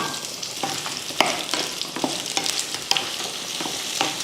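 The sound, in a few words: frying onions and garlic with chillies in pan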